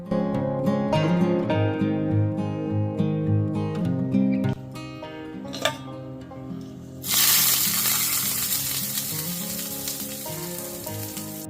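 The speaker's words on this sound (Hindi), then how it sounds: "थोड़ा सा मैं करी पत्ता डालूंगी और लगाऊंगी चटनी में छौंक" Loud crackling sizzle bursts in as curry leaves hit hot oil to temper a chutney, sputtering steadily after a few clinks of utensils, with no talking.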